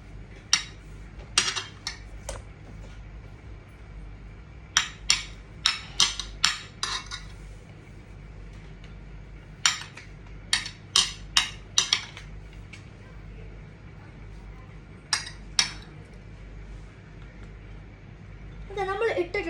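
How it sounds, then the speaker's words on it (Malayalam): Chopped onion is dropped into a bowl in short clattering bursts, sharp clinks and knocks spread across the scene with quiet pauses between, while a person talks. "നമുക്ക് നമ്മുടെ സവാള ഇവിടെ ഇരിപ്പുണ്ട്. അത് നമുക്കൊന്ന് ബൗളിൽ കൊണ്ടിടാം കേട്ടോ"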